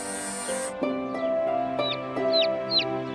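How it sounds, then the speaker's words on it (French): Small bird in a French children's cartoon, chirping in quick high tweets over a bright music bed, the short rising calls repeating near the end. "Bienvenue chez toi, petit oiseau."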